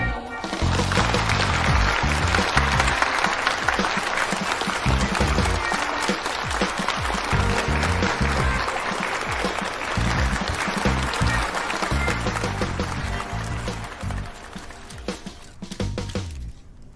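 A crowd at a product launch event applauds steadily and loudly, a dense wash of clapping that carries on throughout before easing slightly near the end.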